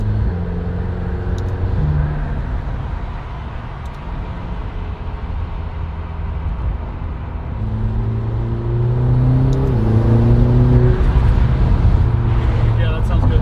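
McLaren GT sports car engine accelerating on the road, a steady rising drone with engine tones climbing through gear changes, heard from inside the cabin under a constant road rumble.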